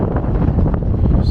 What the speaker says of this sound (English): It's so incredibly windy, it's actually terrifying at the same time.